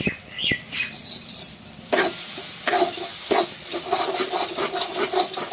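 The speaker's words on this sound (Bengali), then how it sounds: "মটরশুঁটি পেস্টটা দিয়ে খুব ভালোভাবে নেড়ে চেড়ে জলটাকে একবারে মেরে নিতে হবে" Pea paste is stirred in a frying pan to cook off its water, with repeated scraping strokes of a spatula against the pan over a soft continuous sizzle, close and busy.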